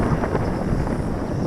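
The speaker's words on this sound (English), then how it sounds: "it's pretty windy today" Strong wind buffets an outdoor microphone during a quadcopter drone flight, producing a loud, continuous low rumble with irregular gusty thumps and no voices.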